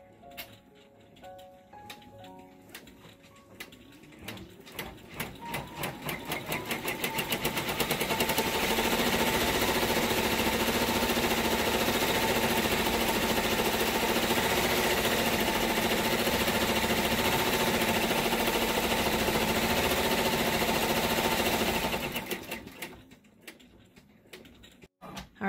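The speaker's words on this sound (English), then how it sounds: "This is the placement stitch." An in-the-hoop embroidery machine stitching a placement line on felt, with a rapid mechanical ticking that speeds into a loud continuous rattling buzz, holds steady for about fifteen seconds, then slows to ticks and stops.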